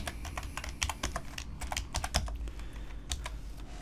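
Quick, uneven clicks of a computer keyboard, close up, as a plugin name is typed into a WordPress search box, keys pattering in short bursts with no voice.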